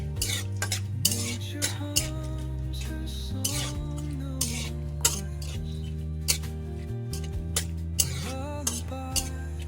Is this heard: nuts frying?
yes